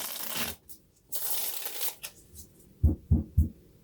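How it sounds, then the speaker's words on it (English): Playing cards riffle and shuffle in a few crisp bursts, followed by three soft, thudding taps close by. "the shuffling sound is bad enough"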